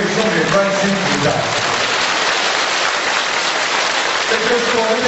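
A large seated audience at a 2012 gathering in Malaysia applauds in a dense, continuous rain-like patter that holds steady throughout, loud and close.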